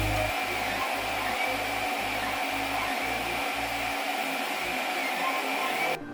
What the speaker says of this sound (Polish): posłuchajcie, jak ta drukarka pracuje